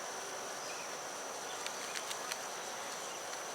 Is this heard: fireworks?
no